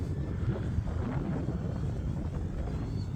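An FMS Zero RC model airplane drones overhead in a steady electric hum. It flies at a distance on a windy day, partly masked by wind rumble.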